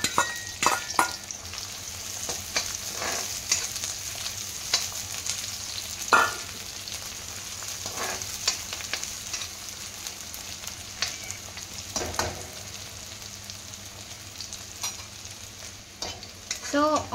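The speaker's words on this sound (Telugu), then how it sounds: "కొంచెం హై ఫ్లేమ్లో వేయించుకుంటే మంచిది" Onions frying in a few spoons of oil over high flame for mint chutney, a continuous soft sizzle punctuated by irregular spatula scrapes and clinks against the pan.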